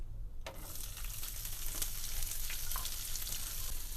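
Onion hits hot oil in a pan for Punjabi chicken curry, bursting into a loud sizzle that continues with crackles and soft stirring; close, no voices.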